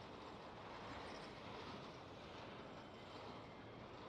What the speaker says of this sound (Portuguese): que o trem passa aqui